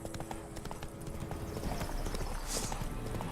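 Steady clip-clop of horse hooves while riding in The Witcher 3: Wild Hunt, a brisk rhythmic trot heard close and continuous, with a faint whinny-like sound partway through.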